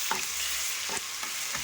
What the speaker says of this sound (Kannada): ಈಗ 2 ಸ್ಪೂನ್ ಇದಕ್ಕೆ ಹಾಕ್ಕೊಳ್ಳೋಣ. ಇದು ಚೆನ್ನಾಗಿ ಫ್ರೈ ಆಗಲಿ.